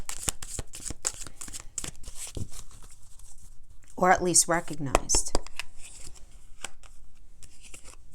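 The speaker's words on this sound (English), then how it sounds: "You saw I shuffled, and I shuffled 6 times in between all the decks." Tarot cards being shuffled by hand in a run of quick riffling bursts, with someone speaking partway through over the crisp papery flutter.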